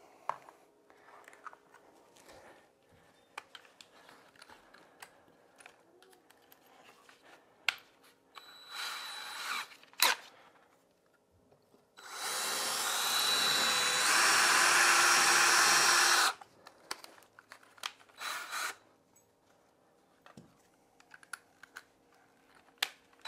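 A slightly larger drill bit boring a pilot hole for a floor outlet receptacle, a steady loud whir lasting about four seconds, preceded by brief shorter bursts and surrounded by quieter handling clicks.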